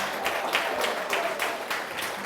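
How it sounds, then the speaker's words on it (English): An audience applauds for reggaeton pioneer Cuddy Ranks at an awards event, a short burst of dense clapping heard fairly close and steady throughout. "Please, a round of applause for Cuddy Ranks."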